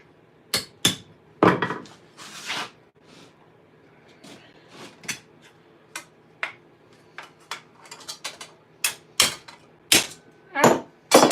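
Irregular metallic hammer blows ring out as gauntlet plate is worked in a dish, close and loud, with sharp strikes in uneven clusters and short pauses between them, some quick light taps and some heavy clangs, with no talking.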